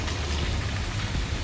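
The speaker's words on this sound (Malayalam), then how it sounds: "മഴ പെയ്യുന്നുണ്ട്, ചാറ്റമഴ" Steady light drizzle patter near Kuttikkanam, a soft continuous hiss with a low rumble beneath, no voices.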